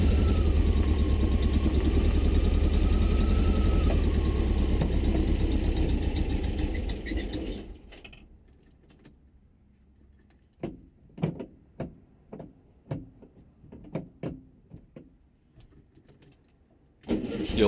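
A 1975 VW Brasilia's engine is cranked and caught, running loud and steady up close before cutting out, followed by a series of sharp knocks and clunks and a brief restart at the end.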